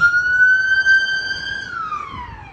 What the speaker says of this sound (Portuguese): todo momento chega carro de bombeiro aqui.